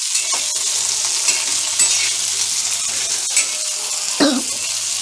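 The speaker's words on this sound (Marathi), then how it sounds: "आणि या मिरच्यांना असे काळे डाग येईपर्यंत आपल्याला भाजायचे आहेत" Green chillies roast in a pan with a constant close hiss, punctuated by light spatula scrapes and a louder stirring scrape near the end.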